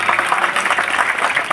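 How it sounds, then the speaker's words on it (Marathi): A crowd claps steadily throughout at a Hanuman temple renovation and consecration ceremony in Jaygaon, Maharashtra, a dense, even wash of applause with no voices on top. "त्यांच्यासाठी सर्वांनी टाळ्या वाजवायच्या"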